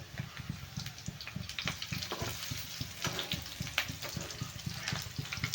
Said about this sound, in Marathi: ह्या वड्या चांगल्या आहे बघा लाल होईपर्यंत मस्त अशा तळून घ्यायच्या आहेत आपल्याला